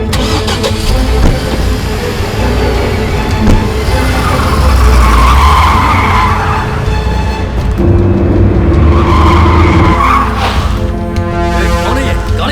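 A car pulls away with tires skidding on the road, a loud engine roar and screeching rubber sustained across the scene amid background voices and dramatic sound effects.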